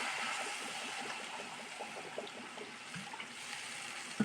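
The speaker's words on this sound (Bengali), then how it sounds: "জল দিয়ে দেবো।" Water poured into an eggplant curry in the pan, a steady close rushing stream that holds fairly even for several seconds, with light bubbling and small splashes underneath.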